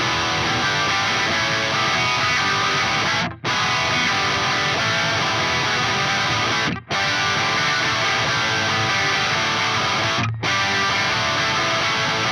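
Gibson Les Paul electric guitar playing a dense, sustained distorted passage, loud and continuous, with three brief near-silent breaks between phrases.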